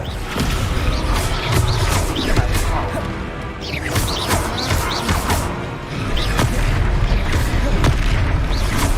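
Confringo fire spell blasting in Hogwarts Legacy, a string of booming, crashing impacts and bursts over dense game sound, with a voice calling out spells throughout.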